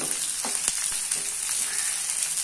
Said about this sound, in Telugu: ఉల్లిపాయలో ఉన్న పచ్చివాసన పోయే వరకు ఫ్రై చేసుకున్నాక